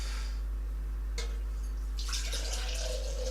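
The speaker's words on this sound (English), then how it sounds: "we're going to pour about half of this into the cafetiere" Milk pours into a cafetiere in a home kitchen, a soft trickling stream that swells into a fuller gurgling splash, close by and with no talk, over a steady low hum.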